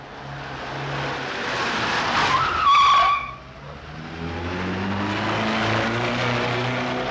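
A car pulls away, its engine rising with a brief squeal of tyres before settling into a steady receding drone, no talking.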